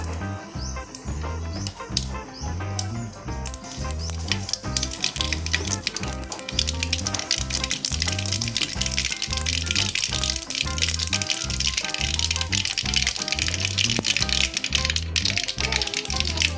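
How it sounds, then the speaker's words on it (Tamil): Mustard seeds splutter in hot oil for a country-chicken fry, making dense, rapid, crackling pops close by. A voice talks over them with a rhythmic low thumping underneath. "எண்ணெய் காய்ச்சிட்டு கடுகு சேர்த்துக்கலாம்"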